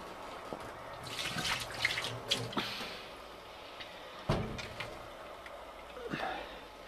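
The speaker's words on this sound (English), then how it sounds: "very, very carefully I'm pouring the water over the grains, just very, very slowly, because you want it to drip out at the bottom" Water trickles and splashes irregularly as it is poured slowly over grains during sparging in home brewing, with faint drips and occasional clunks nearby, and no talking.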